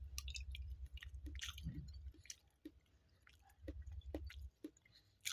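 Close, quiet chewing of halwa and sambusa at breakfast: soft, moist squishes and smacking bites repeat irregularly over a low steady hum.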